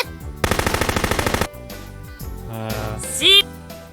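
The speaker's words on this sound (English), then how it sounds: "Take aim at the 100-meter target. Selector on full. Fire in short bursts." A machine gun in an anime scene fires a rapid, loud burst of about a dozen evenly spaced shots, then stops, followed by music and sound effects.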